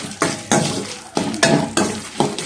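Fenugreek seeds fry in a pan for gongura pickle while a spatula scrapes and stirs in steady repeated strokes, loud and close over a faint sizzle.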